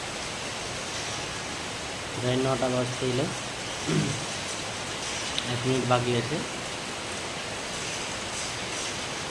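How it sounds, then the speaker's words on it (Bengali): Steady rain falls outdoors as a constant hiss of broadband noise, while a person talks briefly over it in a couple of short bursts. "আজকে আমাদের এখানে বৃষ্টি হচ্ছে"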